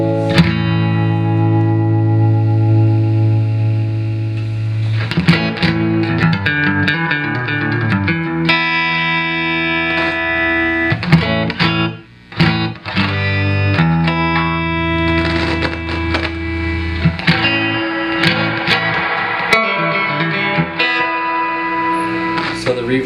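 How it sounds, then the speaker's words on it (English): An electric guitar plays chords through a 1964 Fender Twin Reverb amplifier with lush reverb and a pulsing tremolo, notes ringing out and decaying in a wash of echo. "So the reverb on it is working all good."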